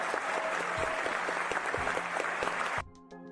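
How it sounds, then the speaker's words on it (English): Studio audience applauding steadily for a newly introduced USC defensive lineman, a dense wash of clapping for almost three seconds before it cuts off abruptly into quieter room tone. "Give him a little applause for joining us"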